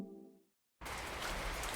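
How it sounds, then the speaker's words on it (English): Heavy rain falls steadily in the 2064: Read Only Memories video game, a dense hiss that cuts in suddenly after a fading musical note and a moment of silence, then holds loud and even. "It's raining."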